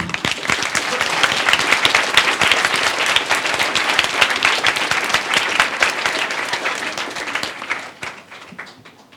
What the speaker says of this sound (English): For the last time in primary, can you give Albert a big clap?